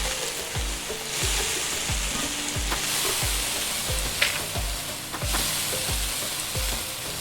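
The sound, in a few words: onions frying in a pan, from the video game Venba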